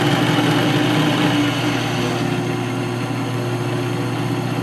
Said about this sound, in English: Now we are reducing the speed of the drill.